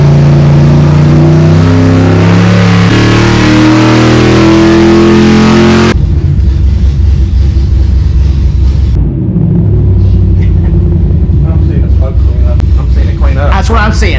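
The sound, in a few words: Gen 3 Hemi engine revving on a dyno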